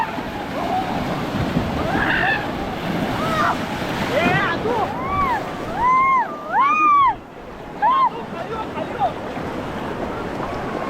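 Ocean surf rushes and churns continuously on Madban beach on the Konkan coast near Ratnagiri, while several people call out and talk over it, their voices rising and falling.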